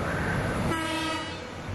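Feeder train running at high speed past Gadobangkong station on the Bandung–Padalarang line, a loud rushing rumble followed by a sustained horn blast that starts partway through and holds nearly to the end.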